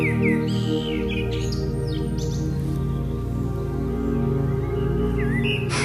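A small bird sings a series of quick chirping, tweeting phrases over a sustained musical drone, part of a told story's sound backdrop.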